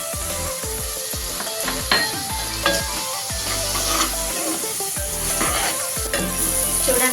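Ground masala of cumin, coriander and garlic frying for Andhra-style fish curry, a constant loud sizzle broken by repeated scraping strokes of a spoon stirring against the pan, close and without talk.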